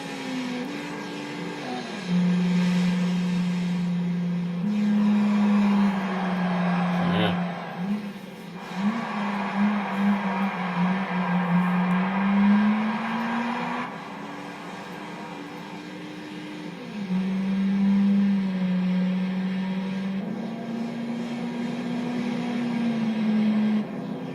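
A synthetic-sounding racing car engine in Gran Turismo 3 drones and shifts pitch as it accelerates and changes gears, steady and mid-loud with no talking.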